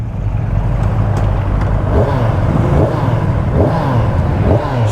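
A Kawasaki Ninja 1000 inline-four motorcycle engine idles close by, a smooth steady low rumble that stays even across the whole stretch.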